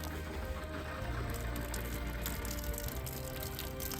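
Water runs from an RV faucet in a Keystone Cougar fifth wheel during winterizing, a steady close hiss and splash with no pauses and no voices.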